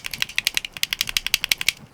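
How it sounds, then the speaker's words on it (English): Game controller joysticks are pushed around right against a microphone, producing a quick series of sharp plastic clicks and ratcheting ticks, close and crisp with no talking. "I can just put my controller up next to the microphone,"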